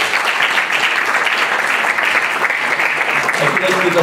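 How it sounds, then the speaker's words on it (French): Loud, sustained applause fills the hall at the 2019 International du Numérique digital awards ceremony as the award winner Accurate is honoured, with a faint voice surfacing near the end. "Vous les applaudissez."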